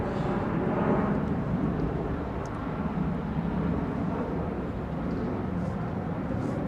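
Airbus A380 airliner at Heathrow Airport, a steady broad engine roar that stays loud and unbroken throughout, with no one talking.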